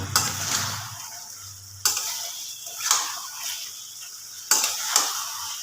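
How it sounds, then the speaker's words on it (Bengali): Chicken stir-fried in a kadai over a high flame produces several sharp bursts of sizzling and clattering spatula strokes, separated by quieter pauses, close and fairly loud. "চিকেনটাকে আবার একটুখানি কষিয়ে নেবো"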